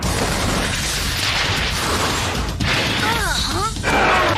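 Rocket ignition and launch in a cartoon promo: a loud, steady roaring rush with rising whistling swoops near the end, no voices.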